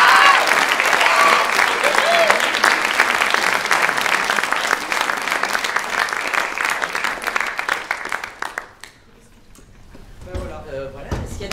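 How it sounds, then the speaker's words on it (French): A theatre audience applauds a youth stage performance with sustained, dense clapping that fades out after about nine seconds, followed by quieter room noise and a few faint voices. "un tonnerre d'applaudissements pour Juliette"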